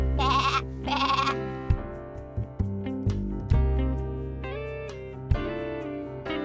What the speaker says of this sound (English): Sheep. Sheep. Shear the sheep.